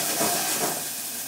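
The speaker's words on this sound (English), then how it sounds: "I'm going to add my chopped onion." Chopped onion sizzling in a hot pan of olive oil, a steady close hiss of frying with no talk, level and continuous throughout.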